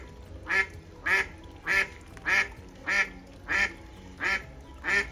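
Female white swan calling, a regular series of eight short nasal honks spaced about half a second apart, fairly close and clear over faint background noise.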